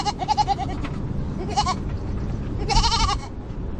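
A goat in a barn stall bleats three times, close and loud, in wavering nasal cries with pauses between, over a low background rumble.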